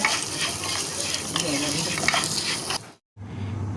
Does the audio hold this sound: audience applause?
no